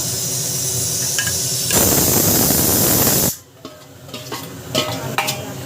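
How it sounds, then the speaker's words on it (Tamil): Onions sauté in a pan for a mutton gravy with loud, close sizzling and stirring, swelling into a hissing burst midway, then dropping to quieter scrapes and clinks. No one talks. "நல்லா வதக்கிக்கணும்"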